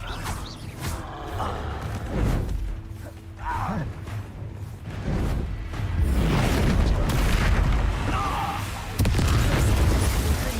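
A Confringo fire spell blasting in the Hogwarts Legacy game, with repeated bursts and booms mixed with creaking mechanisms and other spell effects, loud and busy throughout, with some faint voice underneath.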